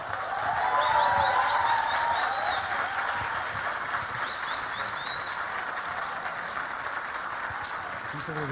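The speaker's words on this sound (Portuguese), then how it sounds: "se você puder, ficar de pé e receber com um forte aplauso Dr. Augusto Cury." Dense, steady applause from a lecture audience standing to welcome a speaker in London, loud at the start and then holding an even wash of clapping, with faint cheers or whistles briefly rising above it.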